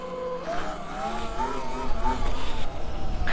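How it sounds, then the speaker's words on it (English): An E-Ride Pro SS 2.0 electric motorbike rides off-road on dirt, its motor whine rising and falling in pitch over rough, gravelly tire noise close by. "now it's time for some dirt riding"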